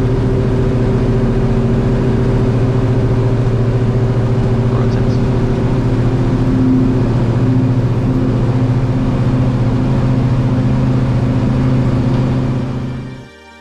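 A Cessna 172 engine drones loud and steady during its takeoff roll, a constant low propeller-engine hum heard from inside the cabin, fading out abruptly at the end.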